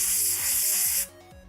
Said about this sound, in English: a little bit of compressed air up under the cap here